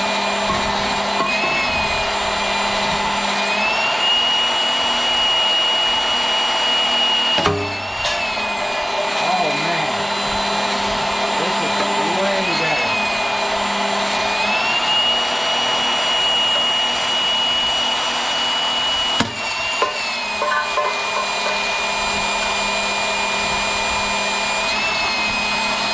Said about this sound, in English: Jaws of Life definitely likes this pump here